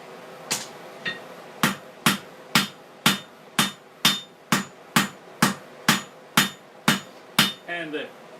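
A hammer rings on an anvil while forging a square nail, with about thirteen sharp, evenly spaced metallic strikes close by, each decaying quickly before the next blow.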